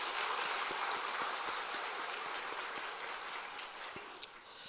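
A church congregation at a Sunday worship service applauds, a dense, even patter of many hands heard from a distance that holds steady for several seconds with a few louder single claps.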